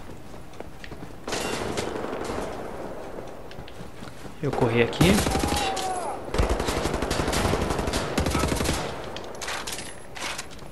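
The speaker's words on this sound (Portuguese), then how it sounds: "mas a gente leva muito tiro depois." Gunfire strikes the player in the shooter game Wolfenstein: The New Order on PS4, with bursts of rapid shots and impacts that come and go over about ten seconds beneath someone talking.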